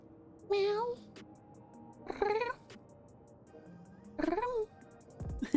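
A cat meows three times in drawn-out, wavering calls with quiet pauses between, close and fairly clear against a hushed indoor room.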